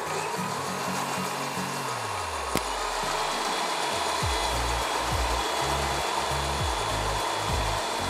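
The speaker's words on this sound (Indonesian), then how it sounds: "Kita mixer sampai kental, ya, sampai kental." An electric mixer whirs steadily as it beats a batter to a thick consistency while making mocaf flour cakes, with continuous motor drone and repeated low pitch sweeps as the beaters work, fairly loud and without talk.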